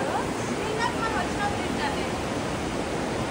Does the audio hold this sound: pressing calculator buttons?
no